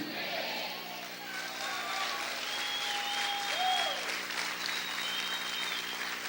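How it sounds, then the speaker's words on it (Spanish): Church congregation clapping loudly and steadily throughout, a dense sustained wash of applause with voices and some musical tones running beneath it. "Vamos a aplaudir fuerte al Señor."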